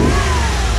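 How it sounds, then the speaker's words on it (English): A C4 Corvette engine with a fresh battery revving hard, its big intake loudly sucking air, a brief close, full-throated roar. "You just hear that massive intake sucking in air"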